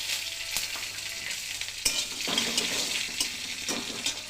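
Green chilies hit hot oil in a wok already used for frying cauliflower, giving a steady close sizzle with crackles and occasional stirring scrapes and pops.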